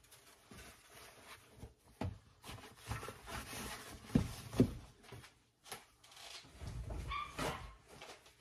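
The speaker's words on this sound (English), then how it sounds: "I can hear her barking" A dog barks and whimpers indoors in a camper kitchen, a handful of irregular yips and bow-wows at moderate distance with quiet pauses between.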